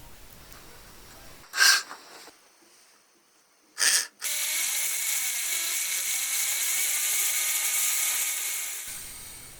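Two short loud buzzes of a drill biting into a plastic lid, then a sustained whining drill or cutting noise running steadily close by.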